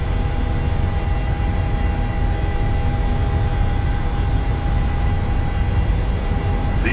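Boeing 737 jet engines at takeoff thrust in the PMDG simulator, a steady, loud roar with a sustained whine running under it and no voices.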